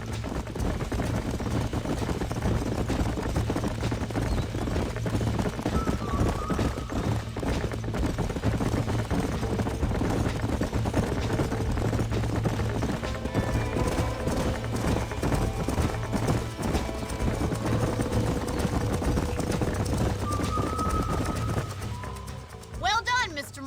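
Horse hooves clip-clop at a trot in the Red Dead Redemption game, a steady rhythmic patter throughout under game music, with brief calls and a voice near the end.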